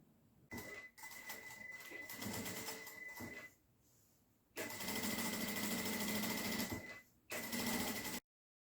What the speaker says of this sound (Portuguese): Vou fazer uma costurinha em toda essa volta aqui.